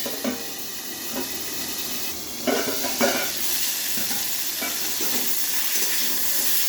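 Cauliflower fries in a pan, giving a continuous hissing sizzle with a few clanks and scrapes as the pan is handled and covered, and the sizzle grows fuller toward the end.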